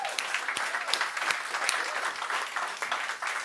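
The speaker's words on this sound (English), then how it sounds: "I think it deserves a round of applause" A church congregation applauds, a lively burst of clapping with some cheering voices, fairly close and sustained throughout.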